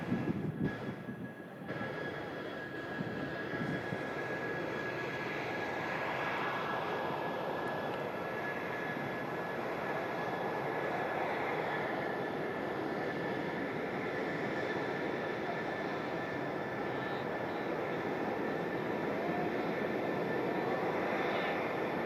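A plane's aircraft engine roars steadily at Manchester Airport, a broad continuous jet rumble with a faint high whine, sustained and fairly distant throughout.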